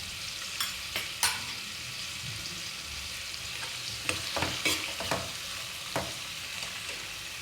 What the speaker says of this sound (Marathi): तेल गरम झालेले आहे। यामध्ये मी आता मोहरी आणि जिरे टाकून घेते।